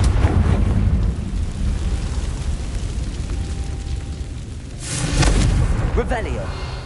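A Confringo blasting spell explodes in the Hogwarts Legacy video game: a heavy, rumbling blast that fills the scene, then a second louder burst of crackling debris near the end.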